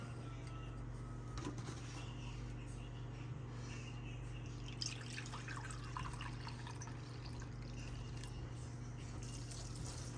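Turkey drippings pour and trickle softly into a container beneath a steady low electrical hum.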